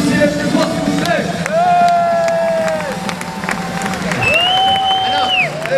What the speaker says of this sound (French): applaudissez plus fort s'il vous plaît